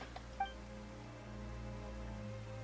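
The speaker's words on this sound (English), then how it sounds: "The clear sky suddenly filled with dark clouds. The rain becomes heavier." Steady soft rainfall in Genshin Impact, a faint continuous hiss with a low drone of game ambience underneath and one small tinkling chime near the start.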